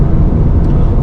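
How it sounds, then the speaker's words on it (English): Toyota GR Corolla 2024 hot hatch with its 1.6-liter turbocharged three-cylinder engine, a loud steady drone held close and even through the short stretch, with no voices over it. "3-cylinder turbocharged engine that's producing this horsepower"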